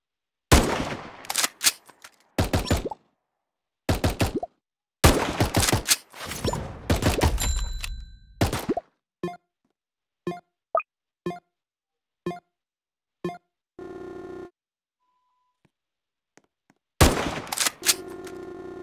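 Gunfire from a sniper tower in the Tower Defense Simulator video game: loud bursts of rapid shots alternate with silent gaps, followed by a run of single evenly spaced sharp shots, then a final burst.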